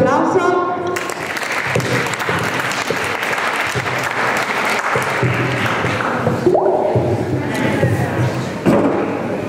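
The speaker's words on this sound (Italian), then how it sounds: "Un applauso." Loud, sustained audience applause at an open-air evening dance and performance event in Tropea, a dense crowd clapping steadily throughout with a brief dip and swell near the end.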